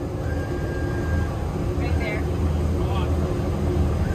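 Outboard boat motors run steadily with a low, constant droning rumble while anchoring at a sandbar, and faint voices come through briefly over the noise.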